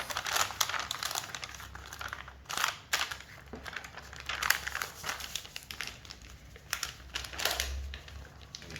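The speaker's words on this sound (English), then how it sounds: "the next thing we are going to do is to fold the dart" Soft, irregular paper crinkling and rustling as a paper sewing pattern is folded closed at the dart, close and fairly quiet, with scattered small crackles and no talking.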